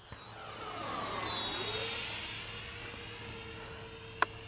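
An E-flite A-10 Thunderbolt II 64mm EDF model jet passes by with a steady ducted-fan whine that rises and then falls in pitch, followed by a single sharp click near the end.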